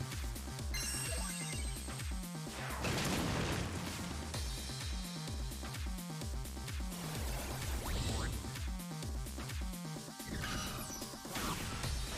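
Hyper Cannon attack from the Digimon Story: Cyber Sleuth video game, a dense stretch of repeated booming blasts and crashes layered over game music, continuous and busy throughout.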